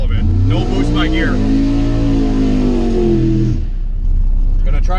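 A turbocharged BMW B20-engined car runs a drag pass at low boost of about 10 to 12 pounds, its engine droning loud and close as the pitch climbs steadily before cutting off abruptly, with a brief voice near the start.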